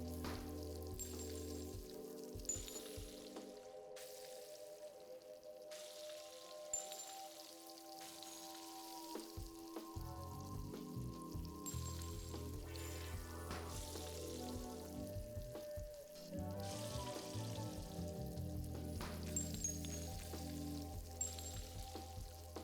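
An egg sizzles steadily in a frying pan in the game Arctic Eggs, a soft continuous crackle laid under a low humming background, with a few faint clicks and knocks on top.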